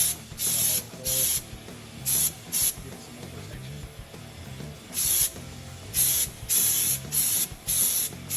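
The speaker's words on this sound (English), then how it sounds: "Now I'm just spraying some stone guard over all my sealed joints." Stone guard is sprayed from a can over sealed body joints on a 1960s Holden Premier under restoration, heard as a string of short, loud hissing bursts separated by brief pauses.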